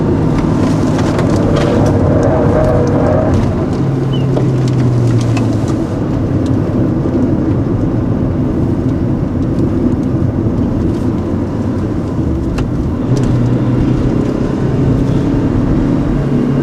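A Proton Satria Neo with the CPS engine drives along on a test run, its engine note a steady loud drone with road and wind rumble throughout, rising in pitch now and then, and no voices.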